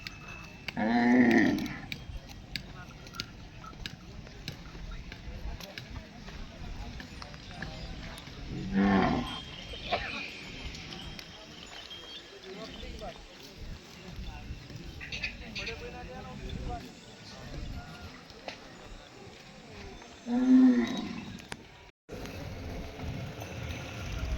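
Cattle low in several loud moos at a crowded bull market in Pusad, Maharashtra, with calls near 1, 9 and 21 seconds standing out over steady background chatter and voices.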